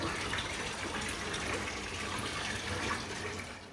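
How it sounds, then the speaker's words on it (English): Water from a shower runs in a steady, soft hiss at a campsite along a long-distance walking track, continuous and fairly quiet with no voices. "I'm going to have a shower myself right now"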